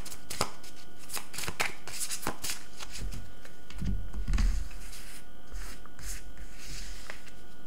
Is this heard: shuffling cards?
yes